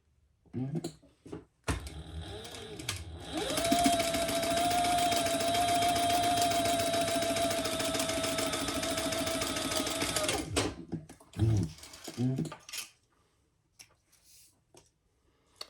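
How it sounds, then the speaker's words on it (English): A sewing machine stitches a seam on a crossbody bag in one long continuous run of about seven seconds, steady and close, with brief handling noises of the fabric before and after. "And then we'll stitch that just like she says in the pattern."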